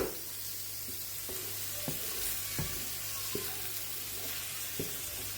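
Two small tomatoes fry in a pan with a soft, continuous sizzle, broken by a handful of sharp utensil clinks at irregular intervals as they are stirred. No one speaks.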